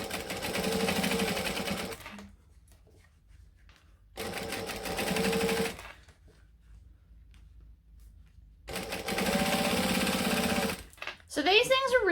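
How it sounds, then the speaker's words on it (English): Sewing machine stitching bag fabric at 4mm stitch length: three steady whirring runs of a couple of seconds each, separated by quiet pauses, close up, with a voice speaking near the end. "we're going to stitch, and I'm doing the 4mm"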